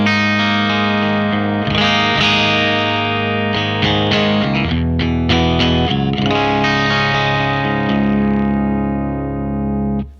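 Loud electric guitar chords on the bridge pickup with a bright, slightly gritty edge, struck and let ring, then a few rhythmic chord stabs before ringing out again.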